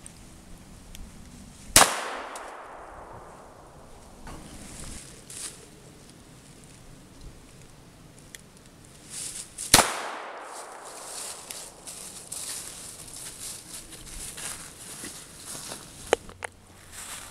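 Two loud gunshots ring out at an Izaak Walton shooting range, about eight seconds apart. Each sharp crack trails off in a long echoing decay against quiet outdoor background.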